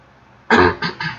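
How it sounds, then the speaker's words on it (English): A person clears their throat close up, one harsh rasping burst followed by two shorter gruff pulses, with nothing else around it. "so I had to clear my throat"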